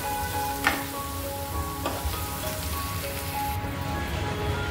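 Red chili powder and sambar masala roast in oil for a drumstick curry, producing a moderate, steady sizzle with a couple of sharp pan clinks and a faint background hum.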